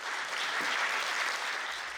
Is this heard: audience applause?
yes